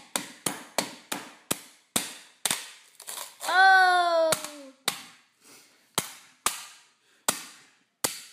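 A hammer strikes a hard plastic NES game cartridge over and over in sharp, close, evenly spaced blows, broken once by a brief high squeal.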